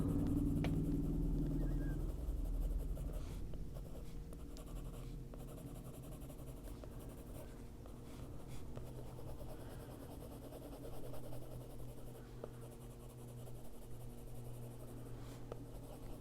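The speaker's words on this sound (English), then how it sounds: "it's softly using the pencil, just going over what we already put down" A colored pencil moves softly over paper in an adult coloring book, shading leaves with a steady, faint scratching that runs continuously beneath a low rumble.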